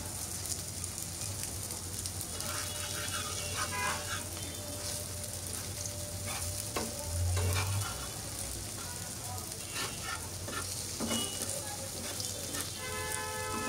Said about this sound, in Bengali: এভাবে আমি আস্তে আস্তে করে ভেজে নিচ্ছি, একটু লাল লাল করে